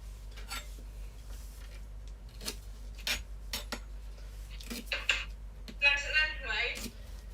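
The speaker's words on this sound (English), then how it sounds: "To trim and slice the spring onion." A knife trims and slices spring onion on a board for a plant-based peanut butter tofu pad Thai, giving a run of scattered light taps and clicks close by, with a brief louder clattering burst near the end.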